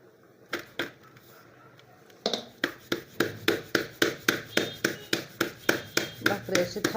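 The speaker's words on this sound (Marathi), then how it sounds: "भाकरी अशी थापून घ्यायची" Rhythmic, close patting of bhakri flatbread dough pressed by hand, a few slow pats at first, then a steady run of evenly spaced soft slaps, with a voice speaking briefly.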